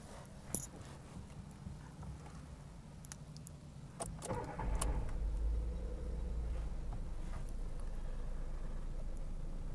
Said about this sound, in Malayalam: ഞാനിപ്പോൾ എൻ്റെ വാഹനം ഓൺ ചെയ്യാം.